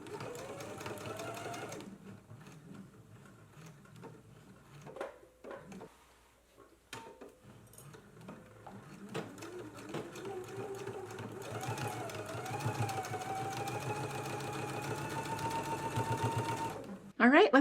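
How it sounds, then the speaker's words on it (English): Sewing machine stitching a dress waistband seam at a 5/8 inch seam allowance, running in bursts of fast, even needle chatter with short pauses, while a person talks over it. "So let's go ahead and stitch now."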